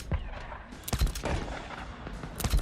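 Rapid automatic gunfire in Days Gone, several sharp bursts rattling close by amid a dense barrage of combat noise, with brief voices mixed in.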